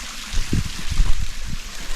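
Water flows and gurgles at a small clean waterfall in North Karnataka, heard close with uneven splashing pulses over a steady wash.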